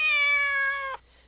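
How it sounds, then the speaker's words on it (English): A single clear cat meow from the video game Corpse Party, a steady, high tonal call held for about a second that ends abruptly, close and loud with nothing else heard. "Such a pretty kitty."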